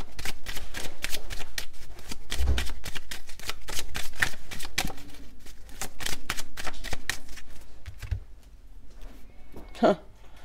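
A deck of tarot cards is shuffled by hand in quick, crisp riffling bursts, close and fairly clear, with a brief thump near the end.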